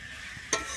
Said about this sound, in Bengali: আমি ফুলকপি আলুটা দিয়ে কিন্তু মশলার সঙ্গে খুব ভালোভাবে একটু কষিয়ে নেব।